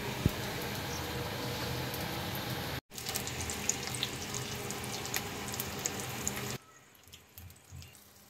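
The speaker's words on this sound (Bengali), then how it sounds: "এই যে মুসুরির ডালে বড়াটা এখন ভেজে নিচ্ছি" Lentil fritters fry in a pan for about eight seconds, giving a steady, dense sizzle that is close and fairly loud. A brief dropout comes near the three-second mark, and the sizzle turns quieter toward the end.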